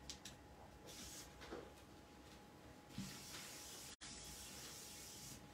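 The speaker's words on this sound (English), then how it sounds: "And then I will give it a light spray." A spray bottle gives a few light puffs of water mist onto inked paper during scrapbooking with Distress Oxide inks, short soft hissy bursts spaced apart with a brief cutout near the end.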